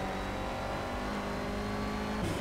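Clio Cup race car in Project CARS at Oulton Park, engine droning steadily and building under acceleration, a continuous close engine note with no talk.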